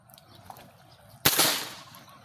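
An air gun fired while hunting by a river goes off once with a single sharp, loud crack that trails off quickly into quiet outdoor background.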